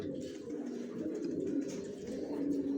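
Racer pigeons coo softly and continuously at close range, a low, rolling burbling with no one speaking.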